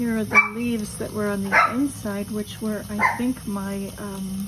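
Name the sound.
small dog barking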